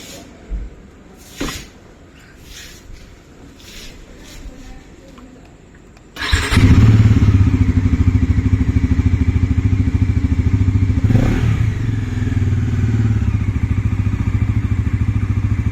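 A Bajaj Pulsar NS400z motorcycle starts after a few quiet clicks and rattles, then its engine idles loud and close with a steady rumble, rising slightly as it moves off.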